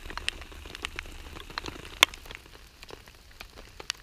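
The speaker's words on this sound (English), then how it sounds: "Well, it's still raining" Steady rain patters on a campsite in Mora, Sweden, a soft continuous hiss of drops with occasional sharper taps, fairly quiet and close, with no one speaking.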